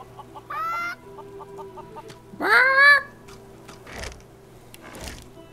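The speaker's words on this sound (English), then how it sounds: "Let's talk to these chickens." Chickens clucking in the fantasy role-playing game Divinity: Original Sin 2, a few short bursts of squawking and clucking close by over a quiet ambient background, with no talking.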